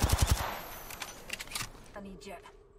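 Apex Legends gunfire opens with a quick burst of loud automatic shots, then scattered lighter cracks and clatter as excited players talk over it.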